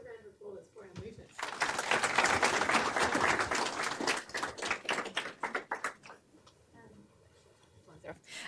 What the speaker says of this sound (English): can we please have a round of applause for our movement?